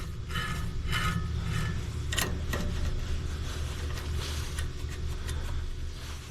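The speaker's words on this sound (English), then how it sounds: "As I tighten in that wrench, you can see that move." A wrench tightens bolts on a sawmill band wheel, producing scattered close metallic clicks and ratcheting taps over a steady low hum.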